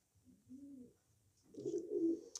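Racing pigeons in a breeder's loft give low, rolling coos in two short bursts, the second fuller and louder, close by and alone with no talk.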